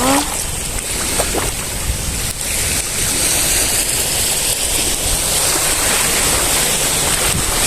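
Sea waves wash over a rocky beach at an island resort, a continuous rushing surf with wind buffeting the microphone, no voices.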